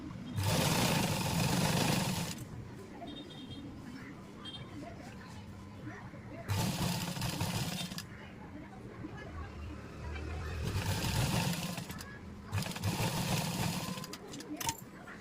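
Sewing machine stitching a blouse lining in several steady bursts of a few seconds each, with quieter gaps between them, close by, while someone talks throughout.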